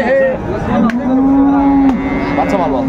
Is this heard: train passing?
no